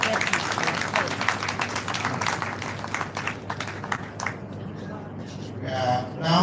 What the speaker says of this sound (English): Please let's make the applause louder.